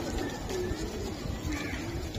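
Giribaj racing pigeons coo softly in a steady background at a pigeon seller's, with a few low, drawn-out calls standing out faintly above the noise.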